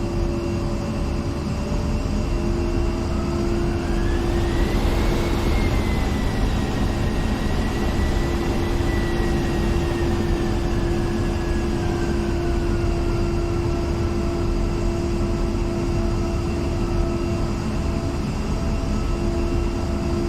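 A-10C Warthog jet taxiing in DCS World, a steady loud engine drone with a constant whine and a slowly rising then settling turbine tone, continuous without talk.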